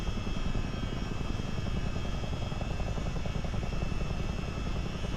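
A CH-47D Chinook tandem-rotor helicopter in a flight simulator game drones steadily in flight, its dense, even rotor and engine roar continuous and close, with no speech.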